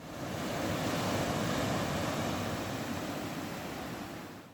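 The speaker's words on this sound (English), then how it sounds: "This is a short video of all the sea here, and we could really hear the sea" Sea waves wash onto the beach at Tintagel in Cornwall in a loud, continuous roar of surf with some wind noise, swelling and then easing slightly, with no voices.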